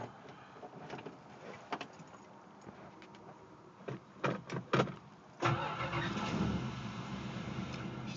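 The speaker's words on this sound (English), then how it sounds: "now with the new exhaust, I'm going to show you what she sounds like." A car engine with a newly welded exhaust cranks with a few uneven bursts, then catches and settles into a steady rumbling idle, fairly quiet and close, no talking.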